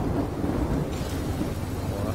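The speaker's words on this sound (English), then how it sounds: "Oh, that thunder's loud." Loud thunder rumbles continuously from a storm in the city-management game Cityconomy, a dense low roar with rain-like hiss layered over it throughout, no talk.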